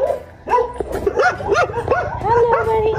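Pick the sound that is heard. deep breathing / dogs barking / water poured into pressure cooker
dogs barking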